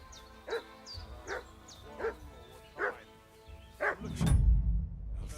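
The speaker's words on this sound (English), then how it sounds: "What's that dog making such a fuss about?" A dog in Kingdom Come: Deliverance 2 barks five times at steady intervals, each sharp yelp moderately close, before a low rumbling thud ends the sequence; no talking over it.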